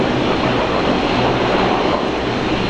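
A Qatar Airways Boeing 777 taxis past at Brisbane International Airport with a loud, steady engine roar and broadband rushing noise, close by and constant through the whole moment, with no speech.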